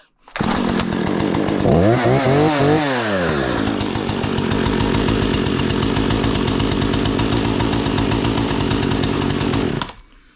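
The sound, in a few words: Husqvarna chainsaw being started and running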